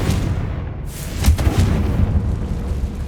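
A Confringo fire spell in Hogwarts Legacy bursts into a heavy explosion, a deep booming blast with rumbling low-end aftershocks that roll on for a couple of seconds.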